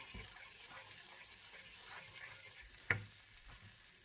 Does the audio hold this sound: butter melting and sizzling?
yes